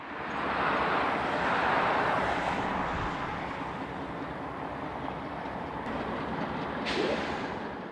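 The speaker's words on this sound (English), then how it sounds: "train M642 from Avon, Indiana can be seen yarding with freight from the Indianapolis Metro" Freight train yarding at Barr Yard, a broad steady rumble of rolling cars and locomotive noise that stays loud throughout, heard from a moderate distance with no talk.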